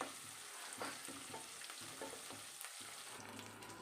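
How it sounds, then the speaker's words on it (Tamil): Onions sizzle steadily in a hot pan, with soft scraping stirs now and then, close and fairly quiet. "இப்போ நல்லா ஃப்ரை ஆயிடுச்சு பாருங்கள்"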